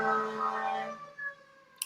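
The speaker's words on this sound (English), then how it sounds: "letting the sirens go by" Emergency vehicle siren tones drift past at a distance, a steady wailing pitch that fades quickly over about two seconds, with a faint click near the end.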